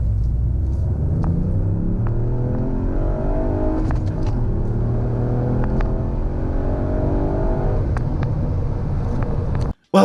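A stage 1 Ford Fiesta ST accelerates hard through a 30 to 70 mph sprint, with a loud engine whose rising revs climb repeatedly through the gears, with shift breaks between pulls and wind rush throughout.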